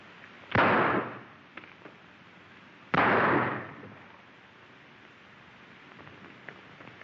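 Two sharp gunshots ring out about two seconds apart in a classic John Wayne western gunfight, each a loud crack with a short echoing tail, followed by a quiet stretch with faint background hiss.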